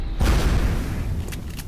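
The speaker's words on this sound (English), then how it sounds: "fusion cannon." A fusion cannon fires in XCOM: Enemy Within, a loud booming blast with a sustained rumbling roar that trails off, followed by faint high whooshing streaks near the end.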